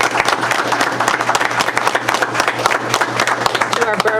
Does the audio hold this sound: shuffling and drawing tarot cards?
no